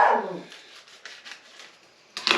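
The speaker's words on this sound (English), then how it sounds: "And now I got a doggy barking." Brody the dog gives a short burst of barking close by in a home kitchen, a few quick yips and barks over about two seconds, with a sizzling, hissy background.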